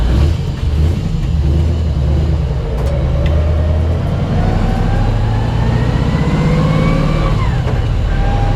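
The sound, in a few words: possible throwout bearing noise, LS1-swapped Nissan S13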